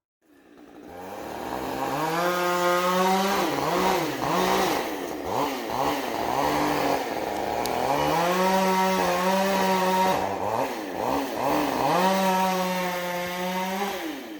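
A chainsaw bores into a tree during a bore-cut felling on a farm logging job, its engine roaring loud and close for the whole stretch and rising and falling in pitch as the chain bites and eases through the wood.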